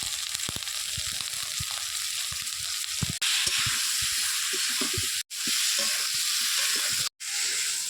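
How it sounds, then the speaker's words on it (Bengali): Ash gourd pieces fry with salt and turmeric in a pan, a loud, steady sizzle and hiss with occasional stirring scrapes, briefly cut off twice. "প্রথমে চাল কুমড়োগুলো ভেজে নেব। লবণ আর হলুদ দিয়ে ভেজে নেব।"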